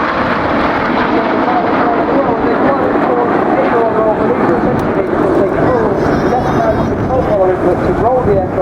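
Red Arrows jets rolling rapidly in the whirlwind manoeuvre at the Bournemouth airshow: a steady, loud, sustained jet roar with wind buffeting, continuous across the whole stretch, with voices audible over it.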